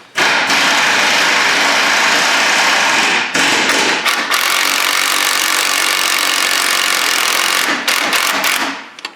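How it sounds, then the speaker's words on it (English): A weak air impact wrench snugs control arm and tie rod bolts on a GMC/Chevy 1500 pickup, running in loud sustained bursts with brief pauses between them, close up and alone. "This is a pretty weak impact, so we won't snug them up hard."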